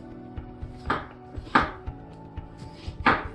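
A sharp knife trims fresh pineapple on a cutting board, giving three distinct crunchy slicing strokes with small taps between them, close and quiet, with no one talking.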